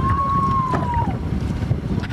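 A rescue boat escorts swimmers across gusty, choppy open water, giving a steady whining tone that glides downward, with constant wind buffeting the microphone.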